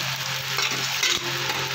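Chopped onion fries with radish greens in a pan, a steady close sizzle with light stirring scrapes and a couple of soft knocks of the utensil.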